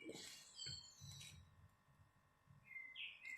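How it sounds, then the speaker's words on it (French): Faint chirps and short whistled calls from small birds drift in through an open window on a sunny day, spaced over a soft background murmur. "vous entendez les petits oiseaux, j'ai ouvert la fenêtre"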